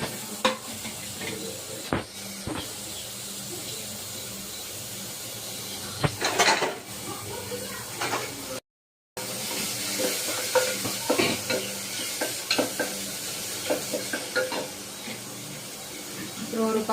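Cumin seeds, finely chopped onion and garlic fry in a pan for homemade baby food, with a steady sizzle broken by repeated spoon scrapes and clinks against the pan as it is stirred.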